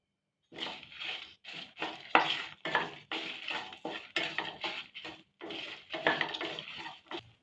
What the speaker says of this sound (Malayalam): ആറ് വറ്റൽമുളക് അര ടീസ്പൂൺ ജീരകം അര ടീസ്പൂൺ ഉലുവായും കൂടി ചേർത്ത് ഒന്ന് മൂപ്പിച്ചെടുക്കാം